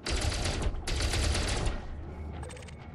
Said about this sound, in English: I'll just use my turret for this